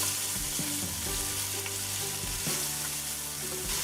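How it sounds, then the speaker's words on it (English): Onions dropped into hot coconut oil give a close, steady sizzle and crackle, with a few stirring scrapes near the start, continuous and fairly loud with no talking. "once that coconut oil is nice and hot, the first thing I'm gonna add is the onions"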